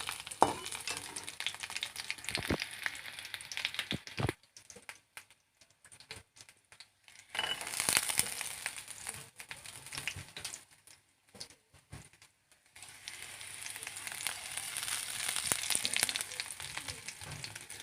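Dried chili, chopped onion, garlic and nigella seeds fry in hot oil, the sizzle coming in bursts with stirring scrapes and dropping away into near-silent gaps between stretches of crackle.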